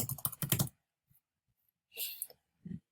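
A computer keyboard is tapped out in short bursts as a name is typed, with quick clustered clicks close by, separated by brief silent pauses.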